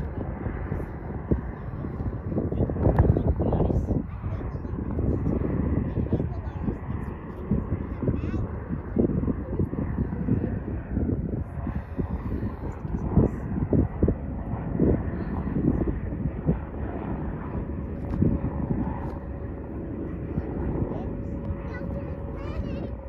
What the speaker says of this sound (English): Here's Delta Airlines flight.